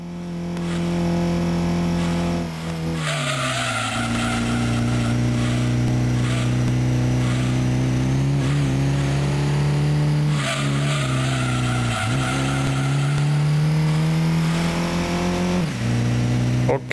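An Opel Tigra's engine drones loud and steady in Gran Turismo 2 on the PS1 during a one-make cup race, with pitch dips at gear shifts and a steady high whine and hiss throughout.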